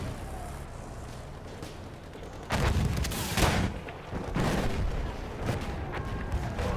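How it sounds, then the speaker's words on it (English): Heavy explosions and artillery fire in the video game Battlefield 1, with loud booming blasts starting midway and recurring over a steady rumbling battlefield background. "Lots of explosions, lots of pigeons."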